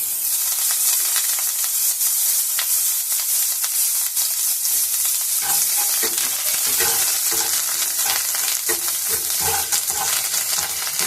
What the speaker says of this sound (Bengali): এবার মশলাটা আমি অল্প কিছুক্ষণ কষে নেব খুব বেশিক্ষণ কষবো না